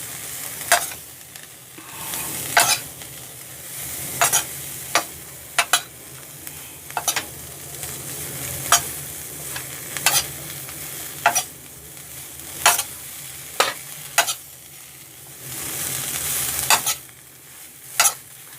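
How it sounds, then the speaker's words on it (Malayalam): Broccoli salad with pepper stirred in a pan: a spoon scrapes and taps against the pan at a steady rhythm over a constant sizzling hiss, close and fairly loud, with no talking. "ഒരു 1 മിനിറ്റ് ഒന്ന് ഇതൊന്ന് ഇളക്കി കൊടുക്കാം."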